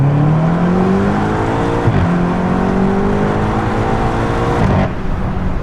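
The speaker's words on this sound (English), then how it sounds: "It's very bassy, especially when you enable the exhaust mode." A BMW M8 Competition Convertible engine revs up loudly with a deep, bassy exhaust note in exhaust mode, rising through the gears with two brief shifts, close and continuous.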